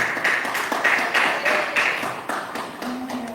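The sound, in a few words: church congregation clapping joyfully for Jesus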